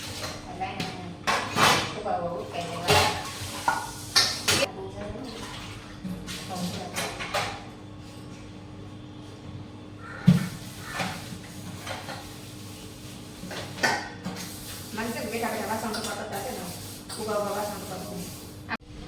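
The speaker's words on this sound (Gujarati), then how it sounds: "આપણે કપડાં ધોઈ નાખી અને વાસણ ઉટકી નાખી" Dishes being scrubbed and washed by hand in a home kitchen, with intermittent clinks, knocks and scraping of utensils under steady conversational talk.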